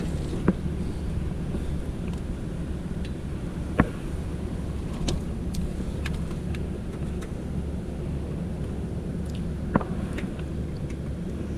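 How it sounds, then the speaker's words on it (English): A rooftop HVAC unit fan runs with a steady, broad whooshing drone, close and continuous, broken by a few faint clicks and ticks. "I think I do hear a fan running"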